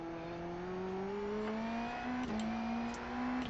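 An Indy NXT race car in the iRacing simulator at St. Petersburg, its engine whining steadily and rising in pitch under acceleration, with a brief dip as it shifts, fairly quiet and continuous.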